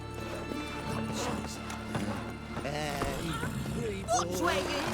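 In the video game The Witcher 3: Wild Hunt, hooves clip-clop steadily while a horse neighs and whinnies, with voices talking and background music throughout.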